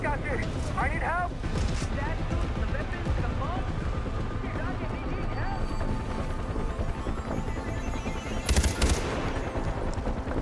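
Gunfire in Far Cry 4 as soldiers attack a weapons cache, dense continuous shooting and rattling bursts under heavy game noise, with a loud spike near the end and voices throughout.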